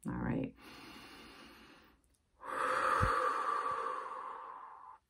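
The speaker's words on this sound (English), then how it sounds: "Pressure release breathing, very excellent thing to do." A pressure release breathing exercise: a sharp inhale, then a long, audible exhale, another deep breath in, and a prolonged breathy outflow, all close and fairly quiet.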